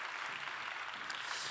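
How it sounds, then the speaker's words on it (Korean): Congregation at a church young-adult service claps in steady, dense applause, a uniform wash of many hands heard from within the crowd. "우리 이렇게 귀한 걸음해 주신 선생님께 우리 박수하겠습니다."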